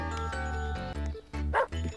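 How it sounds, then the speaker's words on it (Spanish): A dog barks a few times in the video game GTA, sharp yips heard over continuous tonal game music. "¡Perro!"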